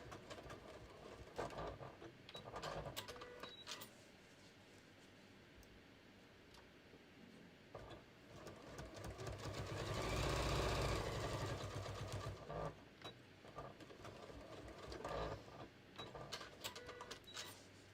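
A sewing machine quilting short rows across the top band of a beach tote, its motor whirring in bursts with brief pauses and back-tacking, rising to a louder sustained run midway, close and fairly quiet without talk.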